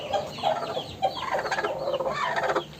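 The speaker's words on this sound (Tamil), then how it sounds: "2 கோழி வச்சுருக்கேன் அடையில்." Two broody hens sitting on a nest cluck continuously and close by, a run of low, throaty clucks and murmurs with no pauses.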